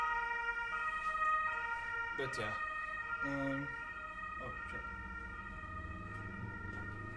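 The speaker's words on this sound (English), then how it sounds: "There is an ambulance coming through." An ambulance siren wails outside and sounds fairly distant, holding steady under a nearby voice that speaks briefly.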